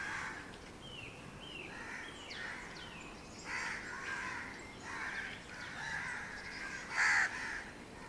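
Several crows caw repeatedly over a steady rural background hiss, their harsh calls coming in loose clusters at moderate distance, with the loudest burst near the end.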